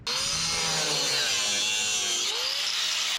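A reciprocating saw cutting into the sheet-metal body of a 1967 Toyota pickup, a loud, continuous buzzing rasp with a shrill metallic whine, close up, its pitch shifting briefly partway through.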